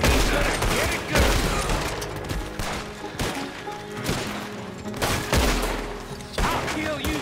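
Gunfire in Red Dead Redemption 2, a loud, dense run of overlapping shots and volleys that keeps going with brief lulls.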